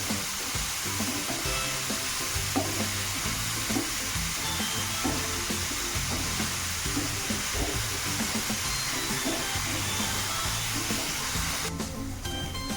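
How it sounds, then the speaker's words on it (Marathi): Chopped onions sizzle and fry steadily in a hot pan for a dhaba-style egg curry, with occasional scraping stirs, close and continuous throughout with no talking. "कांदा छान परतून घ्यायचा आहे गोल्डन ब्राऊन कलर येईपर्यंत आपण कांद्याला छान परतून घेऊया"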